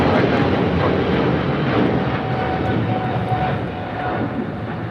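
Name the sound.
heavy airliner departing LAX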